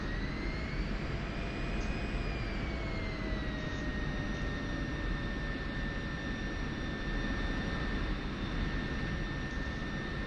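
An F-16C Viper jet taxis toward the runway in the DCS flight simulator, its engine a steady, even whine with a high-pitched tone that slowly drifts lower, heard alone without talk.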